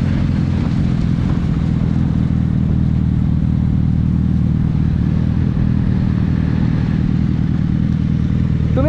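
A motorcycle fitted with an Arrow exhaust rides along in a group, producing a continuous loud, low engine drone with steady rumble throughout and no talking.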